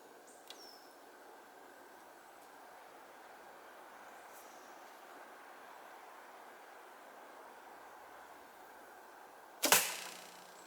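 A 646-grain arrow loosed from a 42-pound three-piece takedown longbow gives a single sharp, close snap and thud near the end, after a long stretch of faint, steady background hiss.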